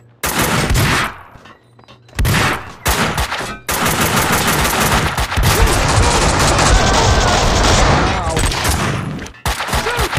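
Loud, dense video-game gunfire from Max Payne 2, with sustained automatic bursts and heavy shots that fill most of the stretch and break off in short gaps, with a few single blasts near the start and end.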